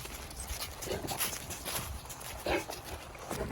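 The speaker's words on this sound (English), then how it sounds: "You can't just stand there and bark at those dogs." Dog on a farm in cold weather barking at other dogs, a few short barks scattered through a noisy outdoor scene with shuffling and rustling.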